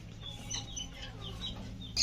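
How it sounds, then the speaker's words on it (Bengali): Chickens and chicks clucking close by, a run of soft throaty clucks with higher peeping calls scattered over a low steady background hum. "আমার মুরগির বাচ্চাগুলো ঠিক মতো আছে"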